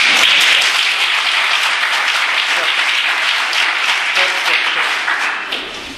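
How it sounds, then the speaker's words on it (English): An auditorium full of engineering students at a Hyderabad technology institute applauds steadily, a thick wash of many clapping hands that stays strong for several seconds and then eases off toward the end. "you must clap. When I put it down, stop"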